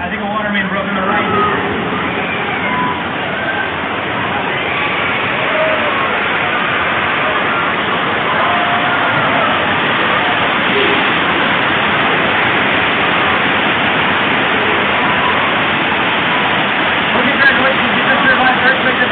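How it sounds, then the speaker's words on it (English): Loud, continuous rushing water roar from a broken water main on the Universal Studios Hollywood studio tour fills the whole stretch, dense and steady, with indistinct voices mixed in underneath. "I think a water main broke on the right."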